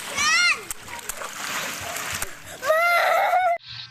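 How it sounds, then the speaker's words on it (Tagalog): Water splashes and sloshes in a swimming pool at the Lihim na Batis resort in Baras, Rizal, heard up close amid excited children's shouts and chatter echoing across the busy pool. "nandito kami sa Lihim na Batis sa may, sa may swimming pool"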